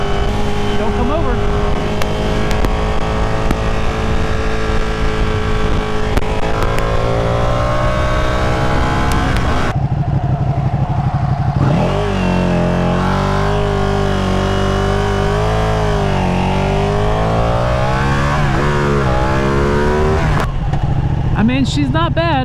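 Ducati 959 Panigale sport motorcycle engine revving during a ride, a loud close whine rising and falling through the gears with shifting pitch, and wind noise mixed in.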